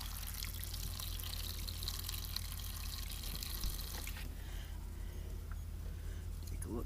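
Water is poured into a cooking pot of wild chokecherry syrup at a camp, a soft trickling splash heard faintly beneath a person talking.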